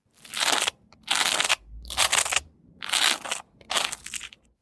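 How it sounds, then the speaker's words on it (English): A knife scrapes butter across toast in five rough, crunchy strokes, each about half a second long with short silent gaps between, close and crisp. "It is toast being buttered."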